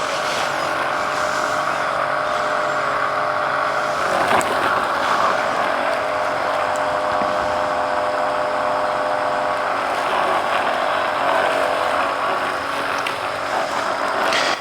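An EcoFlow robot lawn mower drives around a telephone pole outdoors, giving a steady, fairly loud mechanical whir with broadband noise and faint tonal hum, continuous throughout with no talking.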